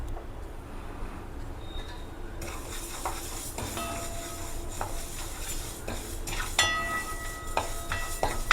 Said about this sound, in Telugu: దీన్ని కొంచెం ద్వారగా వేయించుకోవాలండి.